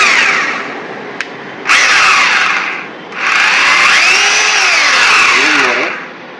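A Powertex RH 26 hammer drill whirs in two sustained bursts separated by a brief pause, loud and close, with a steady high-pitched motor whine.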